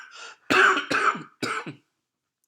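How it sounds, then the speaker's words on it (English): A person gives a few harsh, throaty coughs in quick succession, close and fairly loud, with a brief pause before a last short catch. "this cough, I swear, it's gonna kill me"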